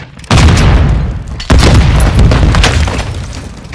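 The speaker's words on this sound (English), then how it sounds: "Hostiles launched a cruise missile." A cruise missile strike in Call of Duty MW2 lands as two heavy, loud booming blasts about a second apart, each rolling into a long rumbling tail.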